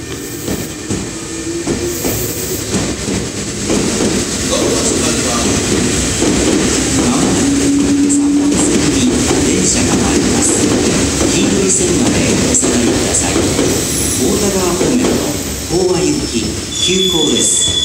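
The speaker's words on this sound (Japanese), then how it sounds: "4番線から電車が発車します。" A Meitetsu 1000/1200 series electric train departing from the platform rumbles and clatters along the rails close by, with wheels faintly squealing and a broadband hum throughout, under an indistinct announcement voice.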